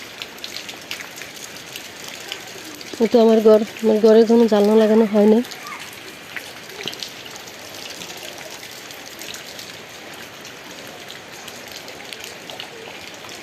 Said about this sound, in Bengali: সারাদিন আজকে এভাবে বৃষ্টি পড়তেছে